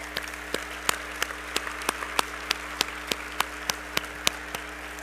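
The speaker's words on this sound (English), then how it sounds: "So you certainly all deserve a great round of applause" Sparse, faint clapping from a few people at the 2007 BEYA awards ceremony for nominees and winners. Distinct individual claps land at a steady rhythm over a constant low hum.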